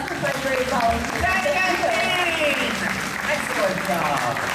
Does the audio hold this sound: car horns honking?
no